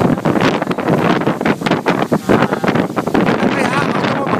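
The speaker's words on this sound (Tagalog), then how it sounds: "Grabe ang hangin." Strong wind on Mount Agad-Agad roars and buffets loudly against the microphone in continuous gusts, with people exclaiming and talking under the blustery noise.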